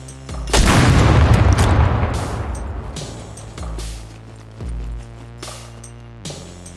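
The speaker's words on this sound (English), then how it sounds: "these mines, don't forget we have to shoot them" An improvised mine in the video game SCUM is shot and blows up with a loud, close boom that rumbles away, followed by several softer thuds and clanks.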